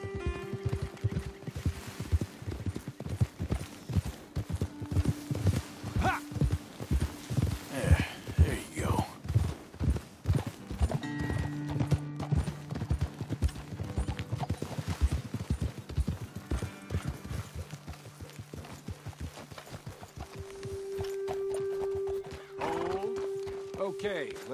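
Horses clip-clop steadily along a trail in Red Dead Redemption 2, hoofbeats close and rhythmic before slowing, with occasional snorts and a whinny, while riders talk over the hooves.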